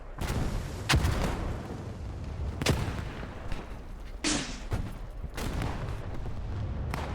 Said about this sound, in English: We have some mortars coming in.